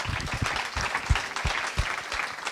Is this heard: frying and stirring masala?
no